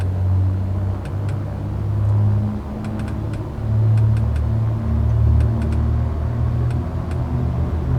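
Single-engine general aviation aircraft engine in X-Plane 12 throttling up, a steady low droning rumble that swells and eases in waves, with faint sharp clicks scattered over it, heard alone.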